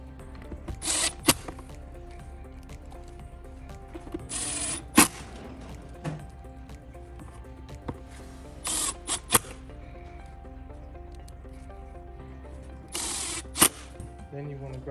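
Phillips head screws are tightened into a towing mirror housing, giving soft clicking ratchet-like turns and a few sharp taps, spaced out over a quiet background.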